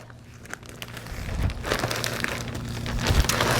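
A plastic bag crinkles and crumples as freeze-dried eggs are handled inside it, with close, busy rustling that grows louder and denser toward the end and no talking.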